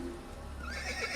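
A horse in Assassin's Creed gives a short whinny that rises and wavers toward the end, heard over a steady game background hum.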